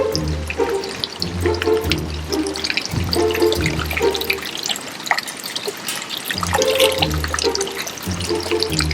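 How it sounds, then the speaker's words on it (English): Water rushing and churning into a canal lock at Upper Heyford, England, a steady broad wash with low gurgling surges that holds throughout, fairly close and loud, with no talk over it. "Oh, it's filling up with water."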